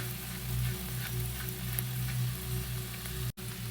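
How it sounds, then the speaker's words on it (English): Vegetables seasoned with salt and pepper sauté in a pan for huevos pericos, giving a steady close sizzle with light stirring and a brief dropout just before the end. "los van a saltear hasta que estén translúcidos"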